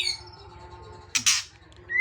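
A caged magpie robin (murai) sings back in short, bright chirping bursts, one near the start and a louder cluster of quick notes in the middle, over a low steady background hum.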